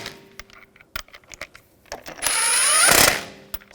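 Lug bolts are threaded by hand into a wheel on a 2007-2013 BMW 328i, with metallic clicks and rattles followed by a short whirring burst from a ratchet tool, all close up.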